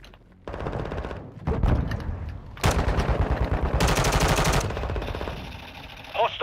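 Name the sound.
gunfire shooting down an enemy UAV in a video game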